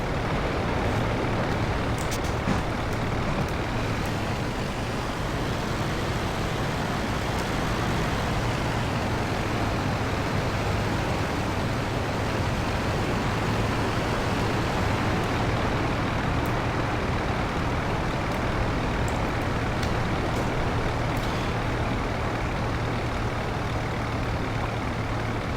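The rotary engine of an S.E.5a biplane in the Rise of Flight combat simulator drones steadily at low revs, a dense, unbroken rumble with a faint low hum that stays even throughout.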